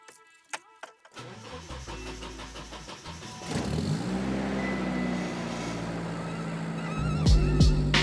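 A Nissan 240SX left unstarted for over a month has a few clicks and a key jingle, then the starter cranks and the engine catches, settling into a steady idle with a small rev near the end.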